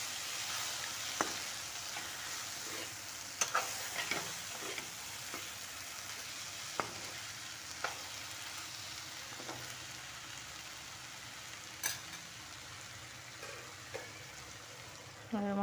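Spices, including black pepper powder, fry and get stirred in a pan: a quiet, steady sizzle with scattered light clinks and scrapes of the spoon throughout.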